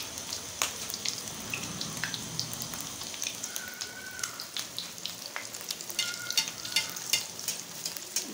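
Qeema kebabs fry in ghee in a pan over low heat, a steady close sizzle with scattered pops and crackles and occasional light stirring or scraping, no voices.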